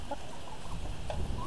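Roosters on a small backyard flock make a few faint, scattered clucks against a steady outdoor background, with no talking.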